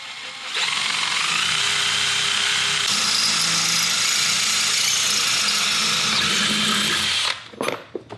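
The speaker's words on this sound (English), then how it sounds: "So I'm gonna drill a hole." A power drill whines loudly and steadily for several seconds as it bores into material, then winds down and stops with a few clunks.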